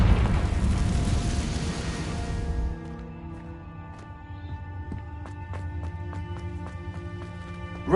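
A Confringo spell goes off in a Harry Potter video game as a loud, rumbling explosion that fades after a few seconds. Lighter game sound effects and sharp clicks follow.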